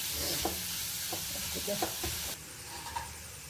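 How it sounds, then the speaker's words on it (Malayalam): Onions frying on high heat in a pan for a spicy prawn roast, a soft continuous sizzle with a few scraping stirs, faint and close, dropping in level partway through. "നല്ല ചൂടിൽ നന്നായിട്ട് ഫ്രൈ ആവട്ടെ"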